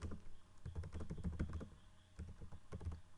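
Quiet computer keyboard typing, a steady run of soft, close key clicks at an irregular pace with no talking.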